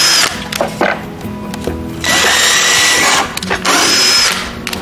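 A power drill whines loudly as it bores 5.5mm holes through a wooden trapping box in two long bursts, with short revving and clattering handling noises between them.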